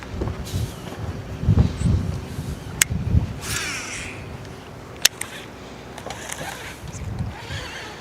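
An electric trolling motor runs on a bass fishing boat on a Pennsylvania lake in spring, a steady low hum under lapping water, with crows cawing and a few sharp knocks.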